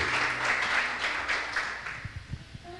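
Church congregation clapping in praise, a thick burst of many hands that holds steady then thins out toward the end, leaving a few scattered low thumps and faint sounds.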